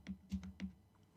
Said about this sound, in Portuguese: Depois, volto o cursor com a tecla de setinha para a esquerda do teclado e digito o que vem dentro dos